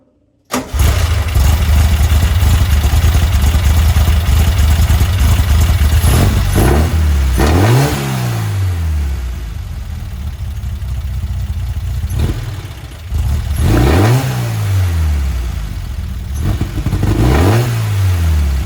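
A car engine fitted with a Weber 44IDF carburetor fires up and settles into a loud idle, then is blipped in several sharp revs that rise and fall, with no talk.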